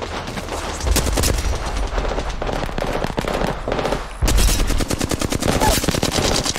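Rapid automatic gunfire in Apex Legends, loud and close, with dense bursts of shots running almost continuously and a heavier volley near the end.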